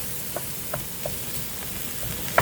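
Ground hamburger and sausage sizzle in a dry pan with no oil added, a steady crackling hiss punctuated by a few soft scraping chops of a utensil breaking up the meat, close and continuous.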